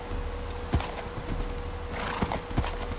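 A horse being ridden in the video game Minecraft, with steady clip-clop hooves. Several distinct hoof knocks sound at uneven intervals over a constant background hum, with no talking.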